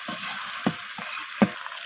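Chicken biryani masala being stirred and fried in a pot over a wood stove, a steady soft sizzle with a few brief scraping stirs, close and fairly quiet.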